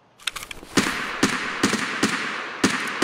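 Several sharp gunshots ring out in a video game as a player fires at a fallen enemy's body, a few quick cracks and then more evenly spaced shots, loud and close with no talking.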